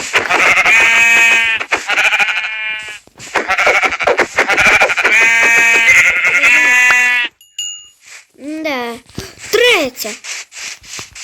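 Sheep bleat repeatedly in Minecraft, loud, wavering cries in several bursts, followed by a few shorter rising calls near the end.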